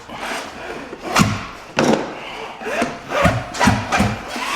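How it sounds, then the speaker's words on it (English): A Ski-Doo snowmobile engine with a repaired pull cord is hauled over by hand, giving several hard, rasping pulls with thumps of compression at an irregular rhythm, close by. "Let's try to haul her over now and see if we fixed it."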